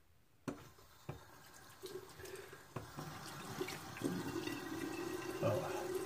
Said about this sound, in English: Let me rinse my face off here.